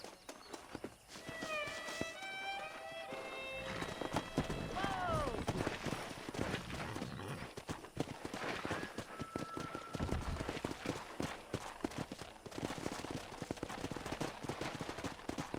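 Horse hooves gallop in a steady clip-clop rhythm in the Red Dead Redemption video game, loud and close, with a whinny and in-game speech layered over the hoofbeats.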